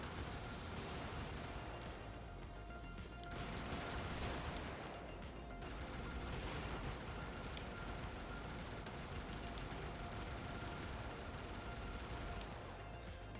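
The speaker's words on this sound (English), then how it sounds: "Look at how many bullets I had to fire to kill that one guy." An 8mm gun fires in the video game Brigador in dense, rapid volleys of shots that run almost unbroken. The gunfire is faint and low in level.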